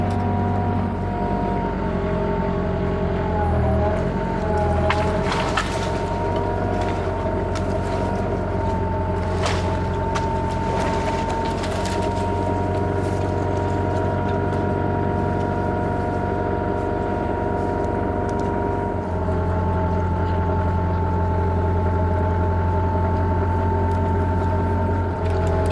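A Kubota mini excavator's diesel engine drones steadily nearby while working around a pond, with brief clanks and shifts in load over the continuous hum.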